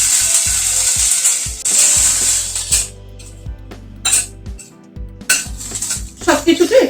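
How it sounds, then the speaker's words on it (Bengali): A metal spoon clanks and scrapes against a pot while onion, garlic, chilli, ginger and tomato cook in ghee. The sharp, irregular knocks ride over a low sizzle. "সবকিছুতে একটু নাড়াচাড়া করে নিচ্ছি।"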